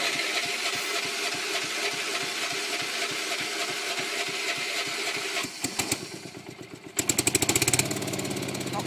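John Deere 210 lawn tractor engine cranking with a steady rhythmic starter churn, then catching with a few loud sharp bursts before settling into a rough, close running idle.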